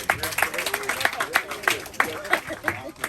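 A small gathering at a highway sign reveal gives scattered, rhythmic clapping, with a few distinct claps standing out and voices faintly underneath.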